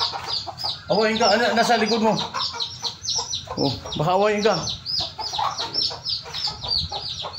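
Chickens cluck and squawk loudly nearby in uneven bursts, while a person talks over them.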